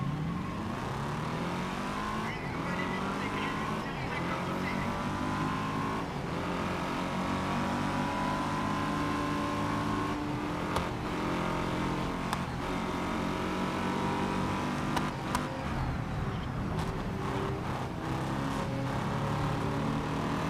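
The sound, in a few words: race car engine driving in GRID Legends video game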